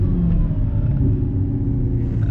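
An Audi R8 sports car's engine rumbles low and steady from inside the cabin while cruising, a continuous deep drone with no talk.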